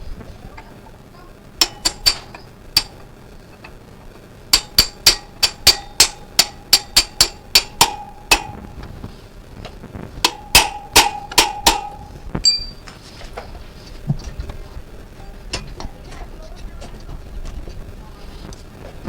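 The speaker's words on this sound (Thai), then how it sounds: "ตอก ให้ล้อมันออกเลยตอกจากแขนข้างนี้ ใช้ตัวนี้ตอก" Sharp metallic hammer blows ring out in quick rhythmic bursts as an axle is driven out of a Harley-Davidson Sportster wheel, several strikes in a row, then a few scattered taps near the end.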